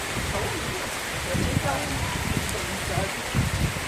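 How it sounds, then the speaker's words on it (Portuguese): Heavy rain falling steadily as a dense, continuous wash, with a voice talking faintly underneath. "Começou a chover, tá uma chuva muito forte, né?"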